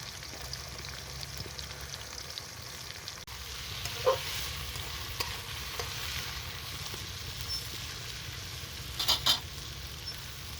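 Chopped onions fry in oil with whole cumin, a steady soft sizzle running throughout, broken by a few brief stirring scrapes and clinks near the middle and end, quiet and close, with no voices.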